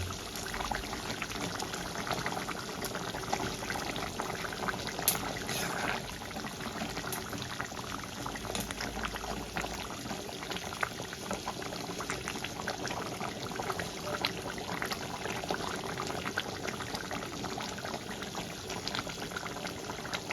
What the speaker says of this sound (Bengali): এবার আমি এক এক করে মাছগুলো ভেজে রাখা মাছগুলো ঝোলের মধ্যে দিয়ে দেবো দিয়ে ভালো করে ফুটিয়ে নেব